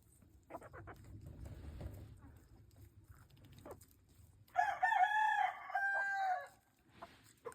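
A rooster crows loudly in a long, wavering call, with scattered clucks from hens and low farmyard murmurs before it and a softer cluck afterward, during a nor'easter.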